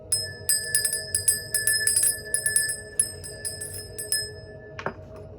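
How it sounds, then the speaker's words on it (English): Small hand bell rung to cleanse energy during a tarot reading, shaken in quick bright clusters of sharp metallic rings that repeat for several seconds, close and loud, then stop before a brief soft knock. "let me cleanse the energy real quick. I'm using my bell, okay?"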